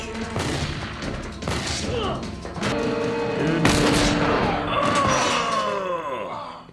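Gunfire from a shootout in the TV series Firefly, in the train job episode, with several loud booming shots and sharp cracks fading into a ringing tail over a dramatic score.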